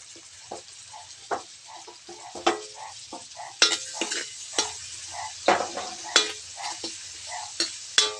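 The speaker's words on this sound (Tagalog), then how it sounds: "Tapos ang kamatis sa dayon atong ibutang." Tomato added to eggplant frying in a pan, with steady sizzling and frequent sharp scraping and clanking strokes of a spatula stirring against the pan, close and fairly loud.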